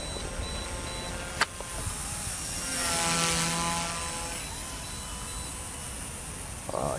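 A helicopter drones overhead, swelling slightly louder midway then fading, with a brief sharp click near the start and no speech.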